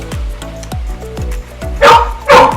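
Barks from XL American Bully dogs, roughly six loud deep woofs in a steady rhythm, with two louder harsher barks near the end, close by and with no talk over them.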